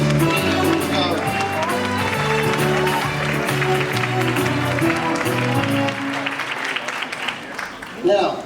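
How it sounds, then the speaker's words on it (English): A large audience at the Wexford Rose of Tralee 2022 event breaks into a sustained round of applause with some cheering, loud and dense, under a presenter's voice, fading near the end. "You give a big round of applause to the Chief Executive."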